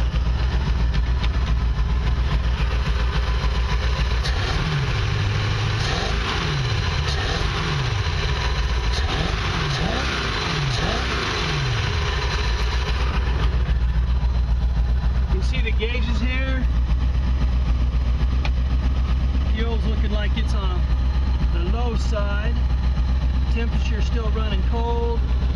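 The 350 engine of a Glastron boat turns over and fires, then settles into a steady, rumbling idle with low revving swells, loud and close, while people talk over it.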